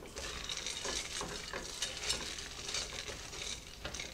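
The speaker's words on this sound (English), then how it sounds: "what you want to do is just continually stir this" Chocolate melts in a double boiler for peanut butter buckeye pretzel bites, stirred continually with a utensil that makes soft, rhythmic scraping strokes against the bowl under a faint background hiss.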